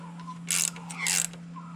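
A 5/8 ratchet wrench cranking down a solid roller rocker adjuster nut, two quick ratcheting bursts of clicks over a steady low hum, close and alone.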